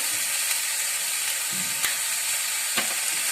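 Vegetable stir fry with white and black sesame seeds sizzles steadily in a hot pan, a loud continuous frying hiss with a couple of sharp crackles and a brief stir partway through.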